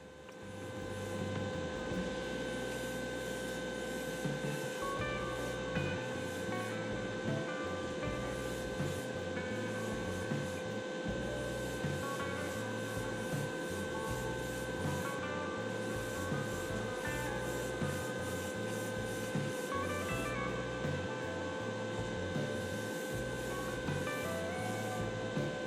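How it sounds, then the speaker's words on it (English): Airbrush spraying 2K clear coat onto a model Koenigsegg CC8S car body, giving a steady, continuous hiss that runs unbroken for the whole stretch at moderate level, with no voices. "I moved on to applying the clear coat"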